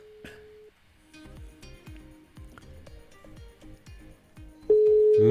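A telephone line tone sounds as a radio host calls a listener: a brief steady tone at the start, then a louder sustained tone near the end, over a quiet rhythmic music bed.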